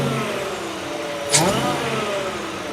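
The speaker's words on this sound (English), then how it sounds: "when you step on the gas, you are going to hear your supercharged engine" Supercharged Ford truck engine with a Borla exhaust steadily running, then blipped into a short sharp rev at about the midpoint that settles back to a strong drone; close and loud with no talking.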